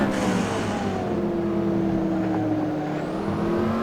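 A LaFerrari and a Mercedes SLS race in Assetto Corsa, their engines droning loud and steady as they run close together, the pitch sliding slightly with a faint rising whine near the end.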